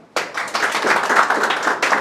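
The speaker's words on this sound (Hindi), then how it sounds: "प्रियंका को 10 में से 10 नंबर मिले हैं, ताली बजा दो यार" A room of students at a live stock-trading class bursts into quick, close hand clapping that starts abruptly and keeps a busy, uneven rhythm for a couple of seconds.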